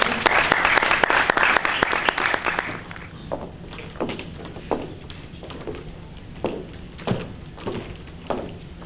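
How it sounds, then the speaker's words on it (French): Audience applause for Priska at a Christian literature fair in Kinshasa, dense and loud for about three seconds, then thinning into scattered individual claps and thumps that continue to the end. "Acclamons pour Priska."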